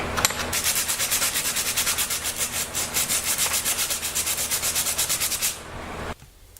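Rhythmic back-and-forth scuff sanding on the back sides of knife scales, close and fairly loud, a quick even series of rasping strokes that stops abruptly near the end.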